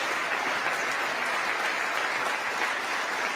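Steady, dense applause from a large audience fills a congressional chamber during a presidential address to Congress, continuous and even throughout with no voices on top.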